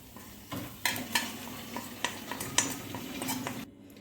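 A spoon stirs a sizzling tadka tempering with Kashmiri chilli for Kathiyawadi dal, sharp metallic clinks and scrapes against the pan repeating over a soft hiss until it cuts off.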